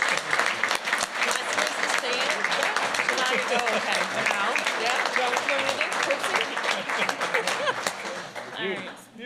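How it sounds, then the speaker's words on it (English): A crowd at a parish council meeting applauds steadily for several seconds, dense clapping with some cheering mixed in, tapering off near the end. "I'm going to ask everyone to give a hell of a round of applause for Ms. Tia."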